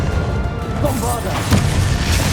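Bombarda spell blast in the Hogwarts Legacy video game, a loud crashing impact with a booming burst in the middle of busy combat, and a voice calling out during the fighting.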